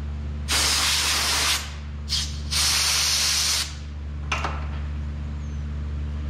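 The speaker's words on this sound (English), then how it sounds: "You can fill it up with compressed air." Hissing bursts of compressed air from an air blower forced into an empty aerosol spray can, three loud blasts of about a second each plus a short final puff, over a steady low hum, with no talking.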